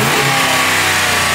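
A car engine revs loudly up close, a deep throaty exhaust roar rising and holding for a moment.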